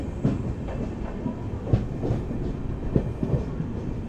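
Island Express from Kanniyakumari to Bengaluru passing close by, a steady roar of coaches with repeated rhythmic clacks of wheels over rail joints all the way through.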